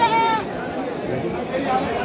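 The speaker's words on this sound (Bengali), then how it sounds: "আপনার এই ছাগলগুলো বেচতে এসেছেন," A goat at a busy livestock market gives a short bleat, then another briefly later, amid steady crowd chatter and someone speaking close by.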